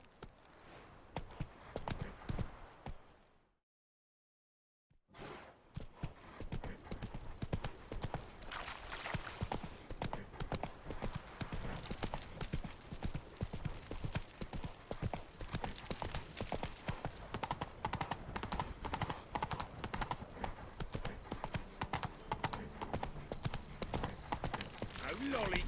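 Horse Roach trots in The Witcher 3, a steady stream of close clip-clop hoofbeats that runs almost the whole time after a brief silent gap near the start, with a voice talking over it.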